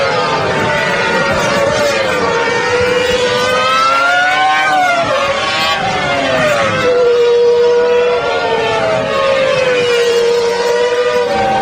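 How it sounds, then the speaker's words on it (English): A Ferrari Formula 1 car leaves the pit lane at Suzuka during 2001 qualifying, its loud, high engine note droning steadily and sweeping up and down in pitch throughout. "a Ferrari exits the pit lane"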